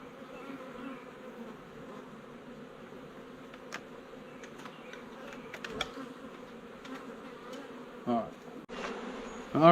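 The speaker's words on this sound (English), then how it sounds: "we've got bees flying everywhere" A swarm of honeybees buzzes around comb cut from a storm-felled tree, a steady layered hum of many wings nearby, punctuated by a few sharper handling knocks toward the end.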